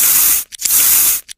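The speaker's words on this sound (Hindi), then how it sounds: "और आ गया हमारे स्प्रे का दवा।" Spray bottle spraying medicine as an animation sound effect, two long loud hissing bursts each cut off sharply, followed by brief short puffs, alone and close.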